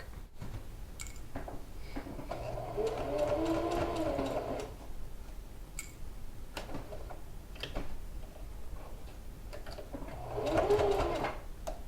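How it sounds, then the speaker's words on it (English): Sewing machine stitching a seam on a quilted coat, running in two bursts of rapid whirring needle strokes separated by a quieter pause with light ticking. "I'll sew it starting from the underarm seam all the way around carefully"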